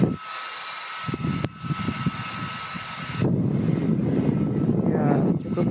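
A GOOJODOQ electric fan runs at its highest setting, a steady whirring airflow with a tonal motor hum, close and fairly loud, with a brief quieter gap near the start and a louder rush in the second half.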